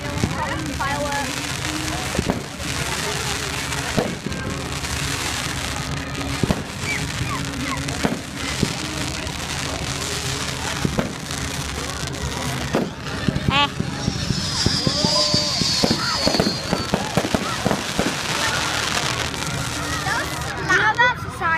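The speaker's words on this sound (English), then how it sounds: "we're recording fireworks" Bonfire night fireworks pop and crackle at a distance in scattered sharp bursts, with people talking nearby throughout.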